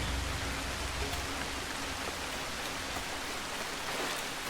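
Steady rain pours down in the Assassin's Creed Shadows game world at a temple in Kyoto, a dense, even hiss with faint scattered drops and no voices.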